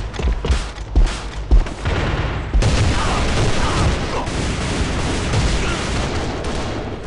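Sniper rifle gunshots in the online shooter AVA: several loud, sharp cracks in the first couple of seconds, followed by a sustained burst of dense gunfire and battle noise.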